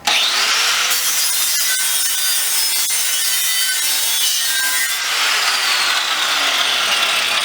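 An angle grinder fitted with a flap wheel strips paint from a steel propane bottle, a loud sustained abrasive whir with scraping texture that eases briefly and then picks up again.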